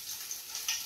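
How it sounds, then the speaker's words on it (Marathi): Garlic sizzling in hot oil in a pan, a brief close hiss with faint crackling pops, steady and fairly quiet. "लसूण थोडंसं पहिलं भाजून घ्यायचं."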